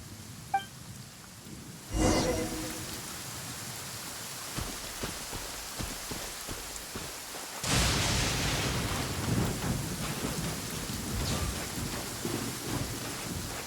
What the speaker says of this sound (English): This heavy rain must be quite an inconvenience for me.